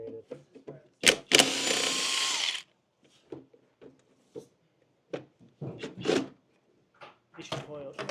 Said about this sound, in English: I'm using a 1/2-inch impact gun set on its highest setting to remove 10 mil bolts